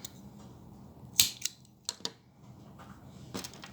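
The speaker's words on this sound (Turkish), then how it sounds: "Ve şimdi ipimi kesiyorum." Scissors snipping green knitting yarn, one sharp close cut followed by a few smaller metallic clicks and snaps, heard alone in a quiet room.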